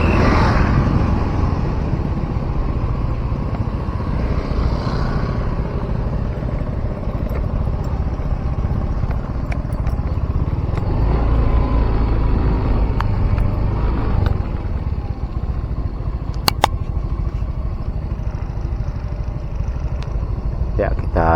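Cars and motorcycles passing near a toll road construction site at Padang Sicincin, Lubuk Alung, traffic steered along a fenced detour, a constant close engine rumble and road noise throughout with someone talking over it.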